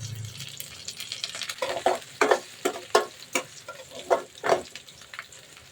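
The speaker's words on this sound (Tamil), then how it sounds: "வெங்காயம் கொஞ்சம் வதங்கட்டும், வெயிட் பண்ணலாம். வதங்கிட்டு இருக்கு." Onions soften in hot oil in a pan for a dried fish curry, with a quiet sizzle broken by a series of sharp, irregular spoon scrapes and stirs.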